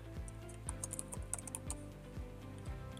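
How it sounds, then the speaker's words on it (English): Typing on a computer keyboard: quick, light key clicks in short irregular bursts, close and quiet over a steady low hum, with no talking. "So I'll just type it out."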